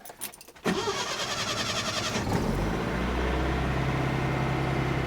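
A Datsun 510 engine, fitted with twin SU carbs and boosted by a jump pack, cranks briefly near the mic and then catches, settling into a loud, steady idle with a low rumble.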